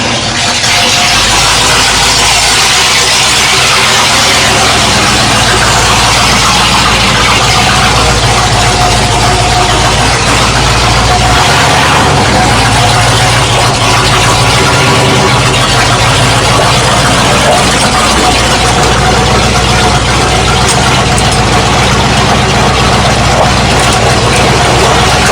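A Ford Dentside shop truck runs with a loud, steady rumbling engine drone throughout, rough and mechanical, with no voices over it.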